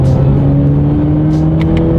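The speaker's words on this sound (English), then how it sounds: "let's do that acceleration and see how quickly we can get this 2019 Camaro up to speed" A turbocharged 2019 Chevrolet Camaro accelerating, its engine a loud, steady droning hum with a slight rising pitch over two seconds.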